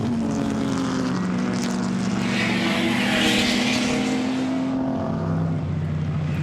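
A six-cylinder Maserati racing car at a circuit race meeting, its engine a steady sustained drone with a rising and falling pitch as it passes, loud and continuous under general track noise.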